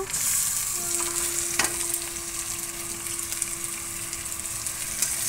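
Ginger tipped into onions frying in oil in a pan, a steady close sizzle with a faint stirring knock partway through and no talking.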